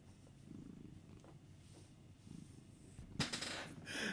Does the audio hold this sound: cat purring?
yes